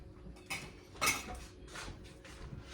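Metal kitchen utensils clink and rattle as a spatula is pulled from among them, a few light scraping clatters at close range with quiet pauses between.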